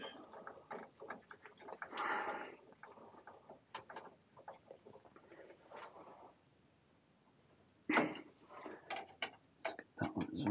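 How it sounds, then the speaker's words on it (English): Screws being tightened by hand to hold a plate heat exchanger in place on a Worcester Bosch boiler, giving a series of short close clicks and ratcheting ticks in bursts, with a brief quiet pause partway through. "Let's hold it in place with one hand and just tighten up the screws."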